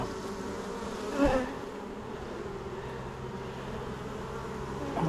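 Honey bees drone steadily around an open hive during an inspection for requeening, a close, continuous buzz with one louder pass of a bee near the start.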